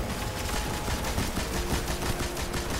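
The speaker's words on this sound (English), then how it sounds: "quickly hit it with the fusion rifle" A fusion rifle fires in the video game Destiny, dense rapid crackling bursts that run continuously and loud, close up, with no talk over them.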